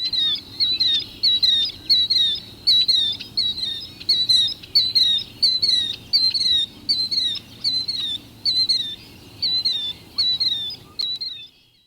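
A killdeer gives its territorial call, a rapid series of loud, clear, high repeated notes in regular bursts, close and alone over a quiet background.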